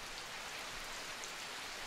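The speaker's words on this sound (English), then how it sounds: "Rain noise is pretty convincing" Steady hiss of rain falling in the video game Dreams, an even, soft wash of noise with no voices.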